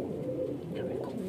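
White pigeons and their chicks cooing softly, a faint continuous low murmuring burble heard up close for a brief moment.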